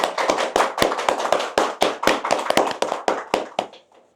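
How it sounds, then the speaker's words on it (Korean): Audience at a Korean radio citizens' forum on restoring Sanbon Stream claps, sharp loud slaps with some hands standing out close by, dense at first and thinning to a few last claps before stopping. "일단 박수 한번 치도록 하겠습니다"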